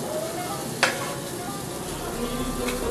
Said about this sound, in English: I'll saute that for a while.